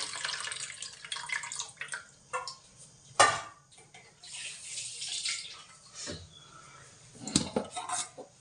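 Cooked horse gram liquid poured into a pan, with splashing and liquid pouring in bursts, plus metallic clinks of a utensil against the pan. Close and moderately loud, with no talking.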